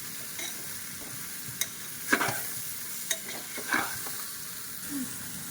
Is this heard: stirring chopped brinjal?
yes